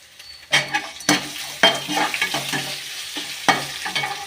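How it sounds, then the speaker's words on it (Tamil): Potatoes and garlic fry in oil in a pan, with a soft sizzle broken by several sharp spatula scrapes and stirring strokes at irregular intervals, close up and without speech. "ஏன்னா உருளைக்கிழங்கு வந்து எண்ணெயிலே நல்லா வேகணும்"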